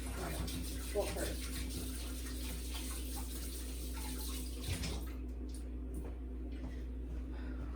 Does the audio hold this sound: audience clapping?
no